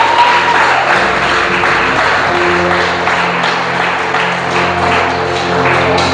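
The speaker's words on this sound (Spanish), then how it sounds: "Dale un aplauso a Dios" Congregation applauding in a church service, a dense, continuous wash of clapping that fills the whole stretch with a steady low hum beneath it.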